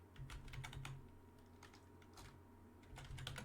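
Quick, light tapping on a computer keyboard, a short run of close, crisp keystrokes with a brief pause in the middle, no voices.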